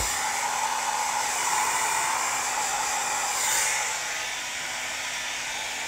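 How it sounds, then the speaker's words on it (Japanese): Steady broadband roar of a hair dryer blowing continuously at close range, loud and even throughout with a slight dip in intensity toward the end, no voices. "ドライヤーいつも15分かかるんですか？"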